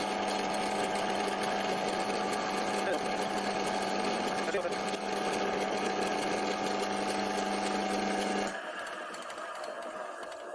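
A Karger lathe taking a final cut, heard close as a steady whirring hum of motor and spindle with cutting noise for about eight seconds, then dropping to a quieter spin-down.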